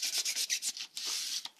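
Fine sandpaper rubbing across a 3D printed wing to sand it flat, a run of quick scratchy back-and-forth strokes in a fast rhythm followed by one longer continuous stroke, close and fairly quiet, with no voices.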